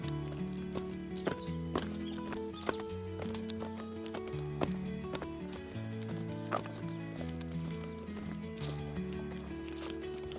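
Oxen walking on a village path give off repeated hoof clip-clops, a steady stream of sharp knocks under prominent tonal music.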